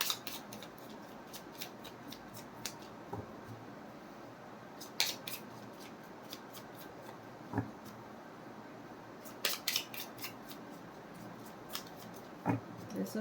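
Playing cards being shuffled during a tarot-style reading, giving a series of short, crisp riffling bursts at irregular intervals over a quiet background, with no talking.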